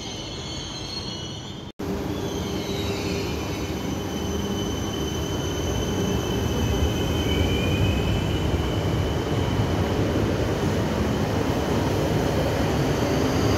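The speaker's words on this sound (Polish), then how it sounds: "A teraz już wjeżdża pociąg ŁKA." Loud rumble of an ŁKA regional passenger train arriving at Łódź Widzew station, with wheels screeching and squealing over a continuous rail clatter that builds as it nears.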